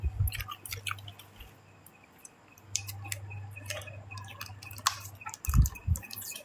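Someone chewing fish balls from 7-Eleven close to the microphone, with soft wet mouth sounds and smacks in irregular bursts, the loudest near the end, and no talking.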